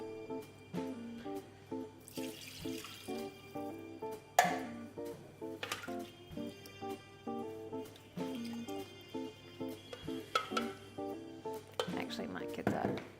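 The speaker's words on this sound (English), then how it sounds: "give it a stir around this one" Food being stirred in a pan while cooking, a steady series of soft scraping and clinking strokes of a utensil against the pan under continuous talking.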